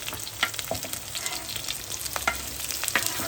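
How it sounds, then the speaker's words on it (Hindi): Onions fry in a hot pan with a steady, close sizzle and scattered crackles and pops throughout, with no voices over it. "ये वाली प्याज भी डाल दें।"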